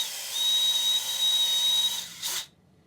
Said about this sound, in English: I'm going to drill a hole in the top